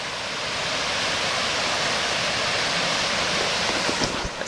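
Water pours over an old dam during a heavy storm, a steady, loud, broadband rush with no voices.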